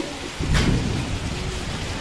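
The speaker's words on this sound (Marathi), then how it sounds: "गारा अजून पडतं." Rain falls steadily during a hailstorm in the Konkan region, with a dense wash of drops on surfaces and a low thunder rumble swelling early on before easing under the continuing downpour.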